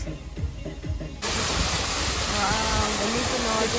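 Cold, fresh water flows at the Thamri Kund stream near Munsiyari. A steady, close rushing hiss jumps louder after about a second and continues evenly, with faint voices nearby.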